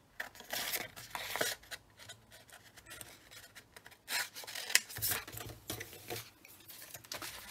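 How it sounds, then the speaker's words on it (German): Scissors snip paper scraps for a junk journal collage in irregular bursts of close, crisp cutting and rustling, with soft handling noises between cuts and no talking. "den schneide ich hier einfach mal aus"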